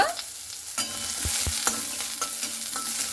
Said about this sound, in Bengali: পেঁয়াজটা দিয়ে এইভাবে খুব ভালো মতো করে 1 মিনিটের মতো নাড়াচাড়া করে নিতে হবে